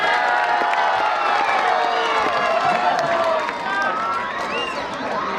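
Audience applause and cheering for poet Nafis Ahmad at a Kul Hind mushaira on Tibba Road, Mayapuri, Ludhiana, a dense, steady crowd roar with whoops throughout, easing slightly near the end.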